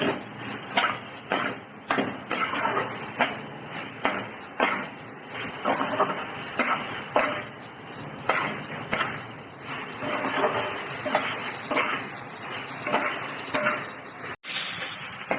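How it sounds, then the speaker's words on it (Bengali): Potatoes with turmeric and spices sautéing for egg curry, a low hiss of frying under repeated scraping strokes of a spatula against the pan, arriving in an uneven rhythm over the full length. "তারপর আমি ভালো করে আবার কষে নেব।"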